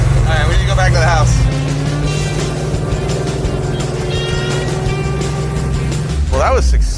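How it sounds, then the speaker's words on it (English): A junkyard muscle car drives around the block, its engine a steady low rumble that holds throughout, with brief voices heard over it near the start and end. "This car ran and drove all the way around my block and made 2 or 3 horrific noises"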